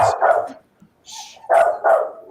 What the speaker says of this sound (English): You've triggered the dog.